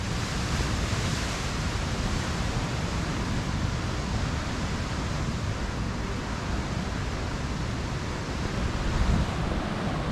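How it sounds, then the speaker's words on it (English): Ocean surf on a Bali beach rolls in as a constant, full wash of broadband noise, steady and fairly loud throughout, with a slight windy quality and no voices. "I made it to the beach, but unfortunately it is closed and I cannot go on it, but it's still very pretty."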